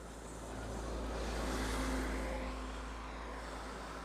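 A bus passes close by on a road, its broad engine and tire rumble swelling and then easing over about four seconds, steady and fairly loud, with no one talking.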